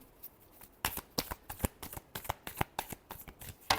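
Tarot cards shuffled up close, a quick series of sharp riffling snaps and flicks in an uneven rhythm, loud and alone without speech.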